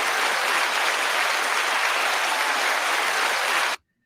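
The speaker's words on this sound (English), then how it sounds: "You got you some applause and everything, Master Guns" An audience applauds a guest, a retired Master Gunnery Sergeant, with a dense, even wash of many hands clapping at steady moderate loudness, cut off abruptly into silence just before the end.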